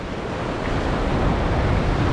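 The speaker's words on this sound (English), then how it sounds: "these waves are gonna hit me cold" Ocean waves surging and crashing against rocks at a Negril, Jamaica beach, a loud continuous roar of surf with rising swells and wind buffeting the microphone, no voices.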